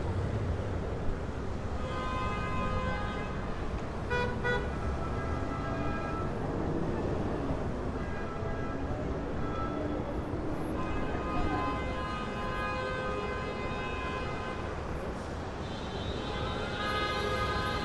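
Heavy street traffic in Hunts Point, Bronx, New York City, with steady engine rumble and several sustained car horn blasts, some long and overlapping, sounding close and fairly loud.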